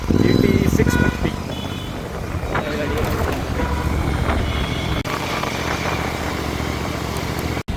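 A Royal Enfield GT 650 motorcycle with a loud aftermarket silencer exhaust idles and revs steadily up close, a heavy, continuous rumble, with voices faintly mixed in.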